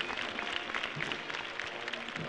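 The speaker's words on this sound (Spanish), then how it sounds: "recibida con una ovación por parte de la multitud de cordobeses que aguardan la salida de esta hermandad" Crowd of people in Córdoba applauding with an ovation during a Palm Sunday procession, a dense steady wash of clapping at moderate distance, fairly faint.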